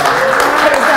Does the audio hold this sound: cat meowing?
no